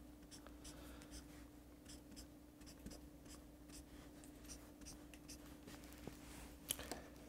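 A highlighter pen squeaks and scratches across paper in short repeated strokes, faint and close, with a low steady hum underneath, while study notes are marked during a law lecture.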